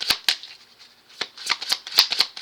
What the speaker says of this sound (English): Let me shuffle the cards again.